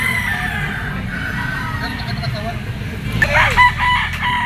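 A yellow-legged Pecom stag crows in a busy outdoor pet market, a short crow rising over steady background chatter and traffic noise.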